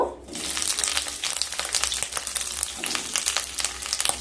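Cubed onion and capsicum fry in hot oil in a kadai, giving a steady, close sizzle with crackling bursts throughout, and no talking.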